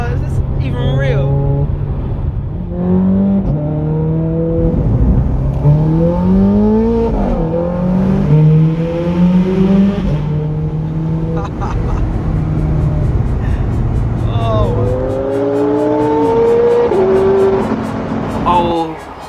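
Ferrari 430 Scuderia accelerating hard with rapid single-clutch gear shifts, a loud engine climbing repeatedly in pitch with each upshift, rising sweeps broken by abrupt drops, with people talking over it.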